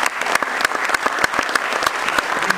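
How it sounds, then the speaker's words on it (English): A seated audience at a tech meetup gives a round of applause, dense steady clapping filling the room at even loudness throughout. "let's give him a round of applause"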